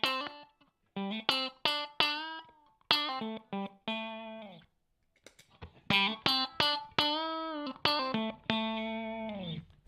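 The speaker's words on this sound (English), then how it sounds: "The compression mode is a fairly traditional sounding compressor to me." An electric guitar runs through a Mad Professor Forest Green Compressor pedal, with clean picked notes and short phrases, evenly sustained, separated by brief pauses and played alone without talk.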